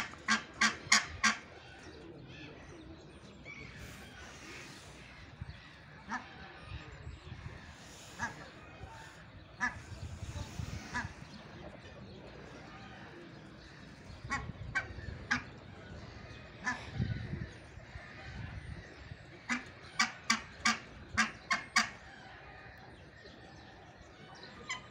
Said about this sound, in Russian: Видите, гусь какой-то, типа гуся.